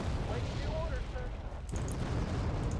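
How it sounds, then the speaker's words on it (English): Artillery strikes in the Wargame: AirLand Battle strategy game, heavy continuous rumbling blasts that build into a dense roar, with a sharp impact near the middle and a voice talking over it. "Stingers are going to get attacked by artillery here"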